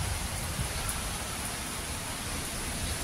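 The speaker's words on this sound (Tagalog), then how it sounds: "Tuloy-tuloy yung ulan mula pa kagabi." Heavy rain pours in a dense, even hiss that holds steady throughout, with no other sounds. The rain has been falling nonstop since the previous night.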